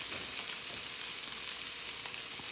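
Onions frying in a pan for a vegan curry, giving a steady, close, hissing sizzle with no break and no talking.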